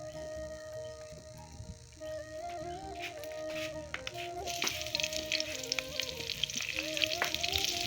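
Bay leaf, chilli and garlic sizzle and crackle in hot oil in a pan, a steady faint frying hiss that grows brighter and busier toward the end, with soft clinks and quiet tonal music under it.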